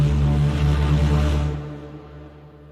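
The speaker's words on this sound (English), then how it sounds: "And from Labs, the foghorn." Foghorn sample from a Labs sound library layered into a composition, a deep, loud sustained blast that holds for about a second and a half before tailing off.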